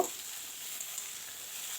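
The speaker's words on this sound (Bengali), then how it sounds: "কচুরমুখীগুলো সব দিয়ে দিলাম, দিয়ে হালকা করে ভাজা করে নেব" Taro root pieces fry in a pan with a soft, even sizzle and hiss throughout, quiet and steady, with a brief louder crackle at the very start.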